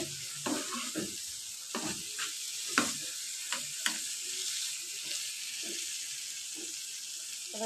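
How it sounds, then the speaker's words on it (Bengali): Mashed yardlong bean bharta with sugar fries over a low flame, giving a continuous soft hiss with irregular scraping stirs and spatula taps throughout; there is no talk. "চিনি দিয়ে আবার একটু নাড়াচাড়া করে ভালো করে ভাজবো এটা লো ফ্লেমেই ভাজতে হবে"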